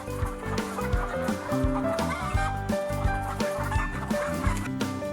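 BV380 hens in a hi-tech cage cluck repeatedly in a busy, overlapping chorus, close by and fairly loud, with no talking.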